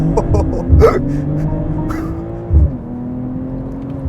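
A BMW M340i launching hard from a standstill to 100 km/h, the engine surging through loud rising revs with a quick shift, while a person nearby gasps and exclaims over the acceleration.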